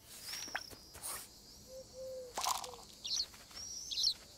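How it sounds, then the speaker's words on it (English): Birds at a garden feeder chirp and tweet in short, scattered calls, some clear and near, with a few soft clicks and rustles in a quiet outdoor setting. "We've got birds."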